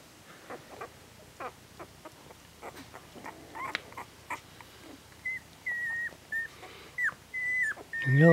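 An eight-day-old newborn puppy squeaks repeatedly with high, thin whines while crawling back to its mother, starting with soft scuffling and growing louder and more frequent toward the end.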